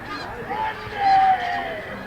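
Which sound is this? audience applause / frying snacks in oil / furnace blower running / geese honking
geese honking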